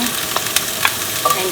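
Mushroom and onion sizzle in a teaspoon of cooking oil in a hot pan, a brief steady crackle broken by a few light stirring clicks.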